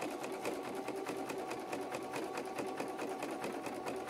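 A sewing machine top-stitches the bust panel of a Victorian corset to form a boning channel, running steadily and close at an even, rapid stitching rhythm throughout, with no voices.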